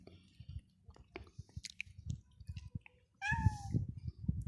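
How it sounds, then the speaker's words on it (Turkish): Cats, a mother and her kittens, chewing meat and bones with soft wet crunching bites, then a sudden loud close meow near the end, with no talk. "Gördünüz mü? İyice besledim kedircikleri"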